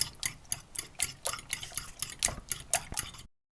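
A spoon clicks and scrapes rhythmically against a bowl while salted batter for zucchini strips is stirred, about a dozen even, close strokes, with no talk.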